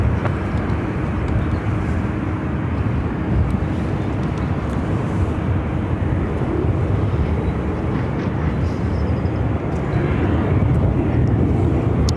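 DHL cargo airplane at Phoenix airport, its jet engines producing a loud, steady broadband roar that fills the scene without a break.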